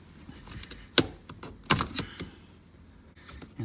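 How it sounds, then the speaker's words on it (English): The shifter plate comes out of a 1980s Nissan 300ZX Z31 with a few sharp plastic clicks and scrapes, close and fairly quiet, in a garage with little talk. "Then we'll pull this plate out."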